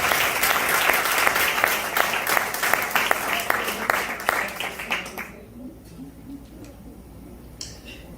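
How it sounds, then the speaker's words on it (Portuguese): A church congregation claps in a dense burst for about five seconds, then the applause cuts off to a quiet room with faint murmuring. "Você pode aplaudir o Senhor?"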